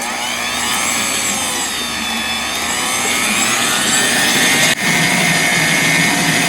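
Electric mixer beating eggs and sugar for a baklava cake: a loud, steady, close whirring motor drone that runs continuously, with a brief dip near the end before it resumes.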